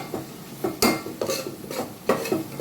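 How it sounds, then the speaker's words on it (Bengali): Spice mix being stirred into a pot for Bangladeshi chicken tehari, with repeated scraping strokes and a light sizzle, several rhythmic passes close by with no talking. "এই মশলাটা এবার এর মধ্যে আমি ঢেলে দেবো। সামান্য নাড়িয়ে নিয়ে"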